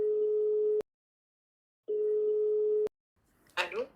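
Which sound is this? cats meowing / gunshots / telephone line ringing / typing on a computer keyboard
telephone line ringing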